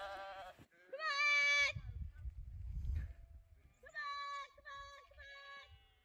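Sheep bleat in a mountain pasture during a roundup, several wavering calls near and clear: one long bleat early, then a cluster of three short repeated bleats, with low rumbling wind or handling noise between them.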